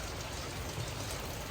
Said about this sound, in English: Pouring down again.